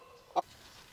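A single short cluck from a village fighting rooster, raised for the Sankranti cock fights, sounds once near the middle, fairly close and clear over a quiet rural background.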